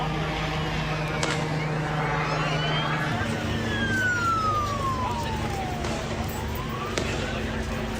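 Police sirens wail and sweep in pitch through a busy outdoor scene after a mass shooting at Bondi Beach, moderately distant under steady traffic rumble and crowd noise.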